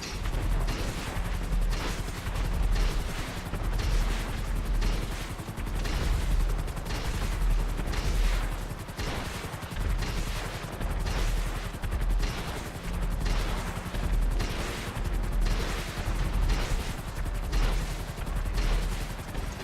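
A Sea Sparrow helicopter in GTA Online fires missiles in continuous rapid bursts, a dense, loud stream of blasts and whooshing launches that runs without a break and drowns out everything else.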